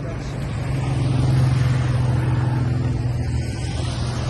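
Cars rush by on a city street in Amsterdam, a steady close engine and tyre rumble swelling slightly in the middle and holding loud throughout, with no voices.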